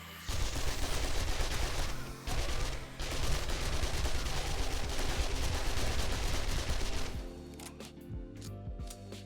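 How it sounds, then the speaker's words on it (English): An SMG fires in the zombie survival game 7 Days to Die, a dense, loud stream of rapid shots that rattles almost without pause for several seconds before tapering off into scattered quieter effects. "I'm pretty much gonna stick with the SMG for a little while because you have to use a lot of bullets here"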